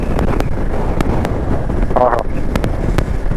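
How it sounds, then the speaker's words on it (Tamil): Steady broadband wind buffeting a microphone while riding an Xpulse motorbike through the Megamalai hill country, a constant loud rush with brief knocks and a voice talking faintly over it. "அந்த காற்று தாங்க என் மேலே வந்து படும்போது அப்படியே ஜில்லுன்னு இருக்கு"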